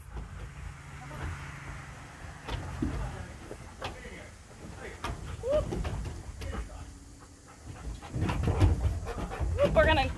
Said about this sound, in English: He's a big, barky chocolate lab.